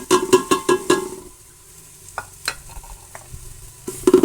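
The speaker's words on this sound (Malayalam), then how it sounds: "നല്ലതുപോലെ നമ്മൾ ഇളക്കി കൊടുക്കണം" A spice mixture is stirred into a curry in a pan, with a burst of rapid clattering scrapes at the start, a quieter stretch of faint sizzle and scattered taps, then more scraping at the end; close, no speech.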